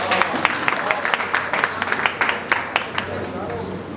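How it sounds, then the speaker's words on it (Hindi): Audience applause at a seminar on Indian heritage, a steady wash of many hands clapping with irregular sharp claps standing out, filling the whole moment at a fairly close distance. "उनके लिए जोरदार तालियां।"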